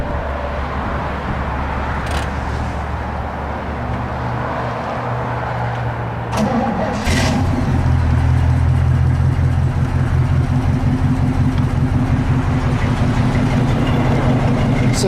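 A 1968 Chevy pickup with Flowmaster mufflers cranks over about seven seconds in, then catches and settles into a loud, steady idle with a deep, rumbling exhaust note, close to the microphone.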